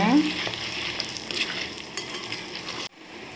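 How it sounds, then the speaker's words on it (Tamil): Steady sizzling and frying of chana dal lentils in oil in a pan for sundakkai chutney, with occasional stirring scrapes, continuing evenly before cutting off abruptly near the end. "மூணு டீஸ்பூன் கடலை பருப்பு எடுத்துச்சுன்னா அதையும் சேர்த்துக்கலாம் சேர்த்து நல்லா வதக்கிக்கோங்க"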